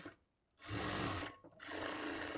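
A sewing machine stitches a blouse lining at the shoulder seam, sewing a second line over the first in two close, loud, whirring runs separated by a short pause, with no talk.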